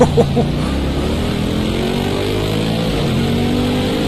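Race car engine in a racing video game, an endurance version of a 2016 car, droning loud and steady with a sustained high whine and no break throughout.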